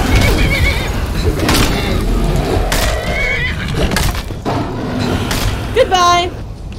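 A horse whinnies in a video game, a rising, wavering neigh near the end, set among dense game noise, thuds and clatter, with people talking over the action throughout.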